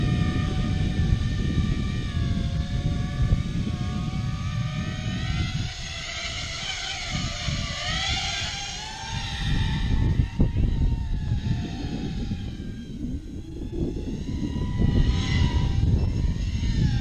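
Radio-controlled model airplane flying overhead as it is trimmed and brought down to land, a steady buzzing electric motor drone with rising and falling pitch as it passes, loud and close throughout.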